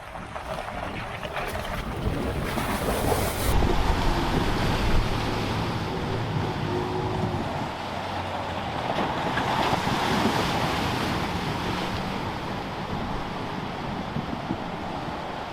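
A vehicle fords a substantial water crossing in Alaska, with a continuous loud rush of churning water and splashing mixed with wind buffeting the microphone, sustained throughout without talk.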